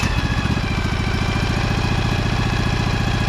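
The engine of a Husqvarna 2346XLS hydrostatic lawn tractor runs close by, throbbing in a steady, fast rhythm without any talking.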